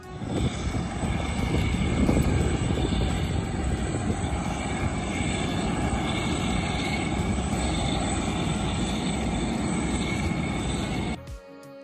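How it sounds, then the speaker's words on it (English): Atlas Air Boeing 747-8 freighter pushed back from the cargo terminal at Chicago O'Hare, its engines giving a steady, loud broadband roar and whine throughout, cutting off abruptly at the end. "this Atlas Air 747-8 freighter be pushed back from the cargo terminal to begin her departure"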